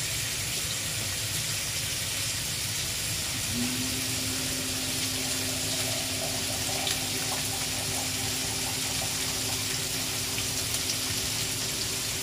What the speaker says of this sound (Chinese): 咁我哋而家落咧兩碗水落去。